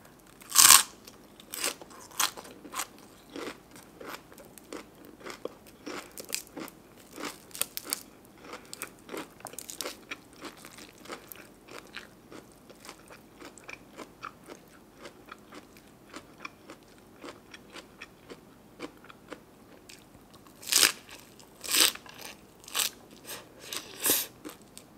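Crisp, close crunching bites and chewing of spicy Thai cockle papaya salad with blanched shrimp, rice noodles, bitter gourd and acacia leaves, irregular wet crunches repeating steadily, with louder bursts near the end and no talking.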